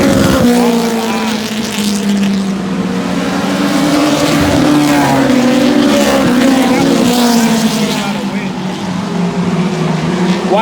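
A Ford Mustang race car roars around a track, its engine droning loud and near with rising and falling revs, while people talk excitedly over it.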